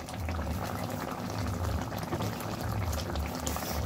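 A small hilsa fish curry with mustard simmers close up, with a dense, steady bubbling and fizzing and a faint splash of oil going in. There is no talking.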